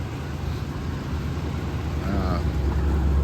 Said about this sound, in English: that's it idling right there on...